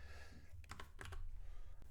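Computer keyboard typing while editing C++20 code: a short cluster of soft, close keystrokes over a quiet room hum, with a single final tap.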